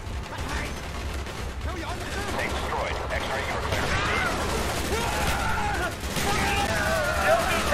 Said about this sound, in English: Someone fired an RPG there.